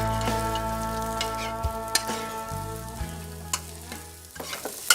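Nasi goreng, a special fried rice, stir-frying in a pan, with a steady loud sizzle and repeated sharp scrapes and clanks of the spatula against the pan, all close up and without talk.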